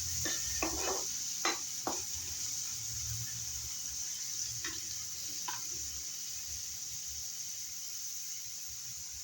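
Chopped tomato sizzling in a pan with browned fried onion, a constant hissing sizzle with a few sharp clinks and scrapes of stirring early on and again later.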